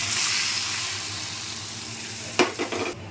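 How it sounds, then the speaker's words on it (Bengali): Strained ground-mustard water hits a hot pan of lightly fried fish with a black cumin tempering. A steady close sizzle gives way to a few sharp, loud hissing bursts near the end. "এবার সর্ষে বেটে ছেঁকে জলটা দিয়ে দিলাম।"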